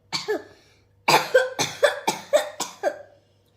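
A person coughs about six times for a COVID-19 saliva self-test, one cough and then a quick run of five evenly spaced coughs, close and clear.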